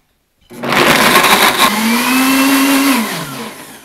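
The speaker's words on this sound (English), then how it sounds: "the blender is done blending" A blender blending a raw spicy tomato sauce starts abruptly and whirs loudly at a steady high speed, then its motor pitch drops as it winds down near the end.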